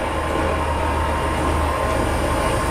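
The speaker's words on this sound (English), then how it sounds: "Sounds like there's another train coming up behind us." Rumbling rail noise of another train approaching from behind in Train Simulator, with a Class 143 unit on the Great Western line, a steady low drone with faint rhythmic clicks at moderate loudness.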